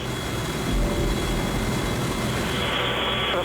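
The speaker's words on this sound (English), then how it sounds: "the helicopter heads in towards him." Rescue helicopter closing in over the sea toward a sailor beside a yacht, a steady loud roar of rotor and engine noise filling the whole stretch with no voices.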